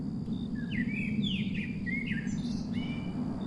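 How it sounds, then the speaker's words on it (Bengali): A night bird gives a series of short, sweeping chirps over a steady low hum, fairly clear and somewhat distant. "শোনা যাচ্ছে কোনো অজানা রাত জাগা পাখির ডাক"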